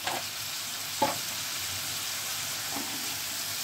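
A pumpkin curry sizzles in a pan after a splash of water, giving a steady mid-level frying hiss with a couple of brief utensil knocks; no one talks.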